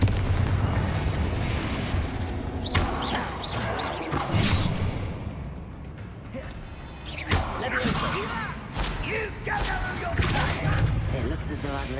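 Spell blasts and booming explosions from the Confringo fire spell in Hogwarts Legacy, several sharp whooshing impacts spread over the scene, with a voice casting spells and game chatter around them.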